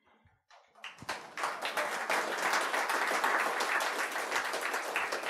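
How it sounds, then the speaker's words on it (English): Audience at a political nomination meeting breaking into applause, starting with a few scattered claps and swelling within a second into sustained, dense clapping that continues steadily to the end. "Anytime you feel like clapping, go ahead, we'll take it"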